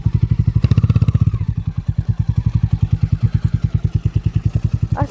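A 440cc motorcycle engine thumps at a steady, rapid beat on a rough off-road track in Purulia, sounding loud and close, with a brief heavier rev near the start and no one talking.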